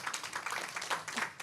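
An audience claps at an Indonesian talk event, a short burst of scattered, fairly quiet hand claps with no voices over it.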